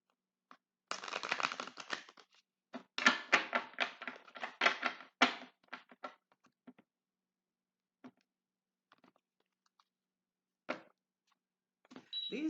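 Tarot cards are shuffled in quick, crisp bursts of riffling and tapping up close, with a dense flurry early on, then scattered single taps and pauses before a last few shuffles.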